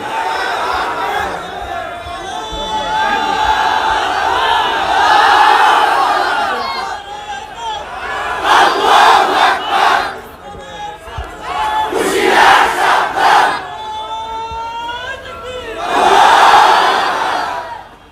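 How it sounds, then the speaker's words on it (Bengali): A large crowd at an Islamic religious gathering (mahfil) shouts the chant Nara-e-Takbir, Allahu Akbar in loud, surging collective bursts, several waves of voices rising and falling over the stretch. "এটা নারায়ে তাকবীর আল্লাহু আকবার বললেন"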